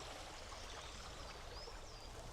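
A small woodland stream flows in a steady, close trickle and babble, with faint bird chirps above it and no voices.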